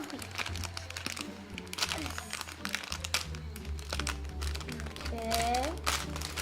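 Plastic wrapper of a Japanese candy kit crinkling and rustling as it is torn open, close and continuous, with people talking and reacting over it.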